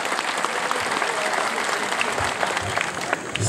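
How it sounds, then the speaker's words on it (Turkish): Crowd clapping at an outdoor wrestling festival, a dense steady burst of applause at moderate distance with no talk over it. "Sizlerden gelen bu güzel alkışlardan sonra"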